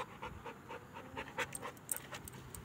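A dog pants steadily on a hot day, quick rhythmic breaths close by with a few small louder puffs, no talking over it.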